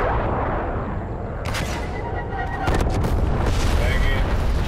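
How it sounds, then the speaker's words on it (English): A Call of Duty: Black Ops Cold War napalm strike sends out a continuous heavy rumble of booming explosions with crackling bursts layered on top, loud and sustained throughout. "Enemy napalm strike incoming."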